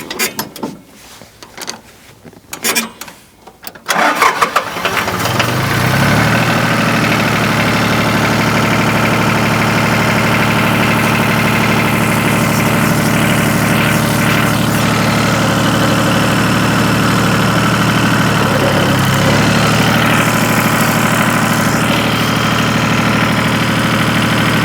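An antique farm tractor engine pulls a corn planter through a deer food plot, starting with a few rough bursts and then settling into a loud, steady, knocking drone with a deep low rumble that holds for the rest of the clip.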